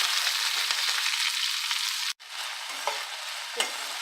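Chopped onions and ivy gourd fry in a pan with tamarind for a kovakkai chutney, giving a constant close sizzle with a brief break and a couple of soft stirring clinks, with no voices.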